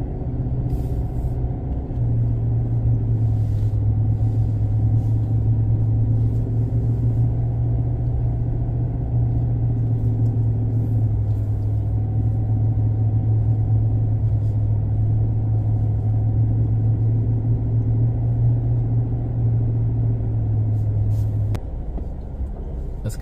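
A 2023 Chevy Silverado ZR2 Bison pickup grinds slowly through deep sand, its engine holding a steady low drone for about twenty seconds before dropping off near the end.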